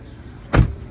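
A single solid thump of a Dodge Charger door shutting as someone gets out of the car, close and brief against a quiet background.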